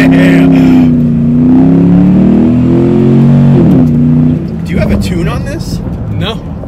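A Ram Rumble Bee truck with a V8 Hemi engine revs loudly and climbs steadily in pitch before the engine note drops off as a gear shifts, with people talking close by.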